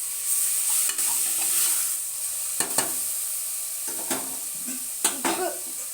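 Chicken is stirred with a spatula in a pressure cooker for biryani, sharp scraping clicks against the metal at irregular intervals over a continuous close sizzle of frying.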